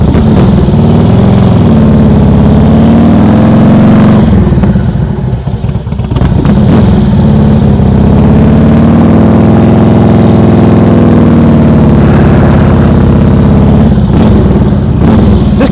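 A motorcycle engine held at raised throttle during slow-speed riding practice, a steady loud mid-pitched drone running almost the whole time, with a brief dip and wobble partway through before settling back to an even hum.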